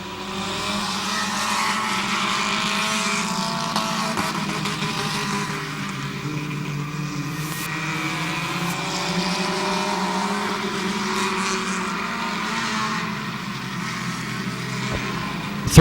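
Stock cars racing at Midvale Speedway, a continuous loud roar of several engines circling the oval with pitch shifting as cars come and go, heard from trackside with no talking over it.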